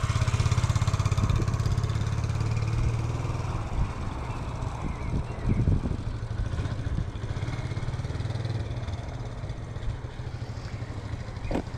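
A learner's motorcycle engine chugs nearby at low revs with an uneven, pulsing note, steady at first and then rising slightly as a touch more gas is added, mixed with a few knocks and a faint voice.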